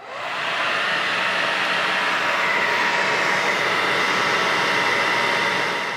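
A hair dryer blowing cold air onto mustache wax, a loud, steady whooshing roar that starts up and then runs unbroken, with no talking.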